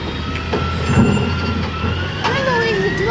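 A garbage truck rolling past with a rumbling engine, an air-brake hiss and rising whine toward the end, loud and close while people talk nearby.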